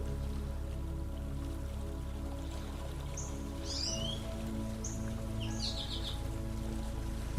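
Steady rain falls in a continuous soft hiss with a low rumble underneath, while a few faint bird chirps come through in the middle.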